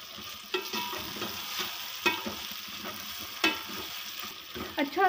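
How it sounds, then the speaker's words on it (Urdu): Onions, garlic, ginger and chopped tomatoes frying for chicken biryani masala, a steady close sizzle with scattered stirring clatters and scrapes throughout, no talk. "اس کے اندر کٹا ہوا لہسن ادرک ڈالا ہے، ساتھ ہی باریک کٹے ہوئے ٹماٹر۔ اس کا اچھا سا مسالہ تیار کریں گے۔"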